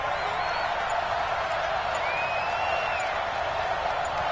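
A packed Arrowhead Stadium football crowd roars on third and goal against the Redskins, a steady, loud wall of noise with faint whistles rising above it throughout.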